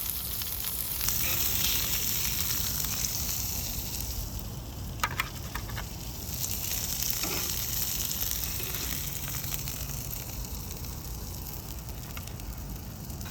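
Fish frying on a Blackstone griddle, a steady, close crackling sizzle with scattered pops that continues without a break for the whole stretch.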